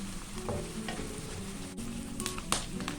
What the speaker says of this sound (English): So we will continue frying this until the garlic turns brown.